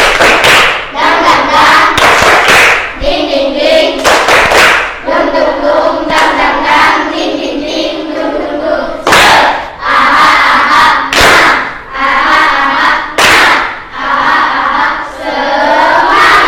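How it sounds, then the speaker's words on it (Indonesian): An Indonesian classroom of students performs a rhythmic clapping chant, loud group shouts alternating with sharp bursts of synchronized claps in a repeating pattern, energetic and close. "yuk kita tepuk semangat dulu. Tepuk semangat."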